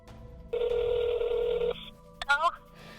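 A telephone rings during a cow calving, giving one long steady electronic ring tone of about a second, followed by a brief warbling chirp. The sound is clear and fairly close, with no talk over it.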